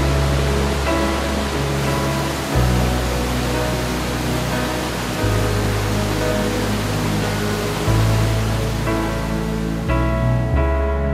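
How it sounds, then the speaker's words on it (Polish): A mountain river waterfall in Trentino, Italy, pounds heavily over rocks, giving a steady, loud, close rushing roar with deep surges swelling every few seconds and no voices. "oglądając relaksujący wodospad na górskiej rzece. Tutaj woda spuszcza skałom niezły łomot."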